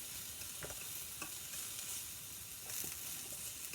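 Peppers stir-fried in melted butter on a Hamilton Beach sandwich griller sizzle steadily, with scraping stirs breaking through the hiss at irregular moments close by.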